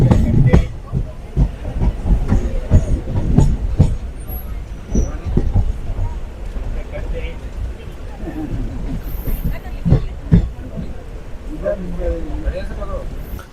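Coimbatore Intercity SF Express train rolling through Malabar and pulling into Tirur railway station, a steady low rumble with irregular clattering knocks throughout and people talking over it.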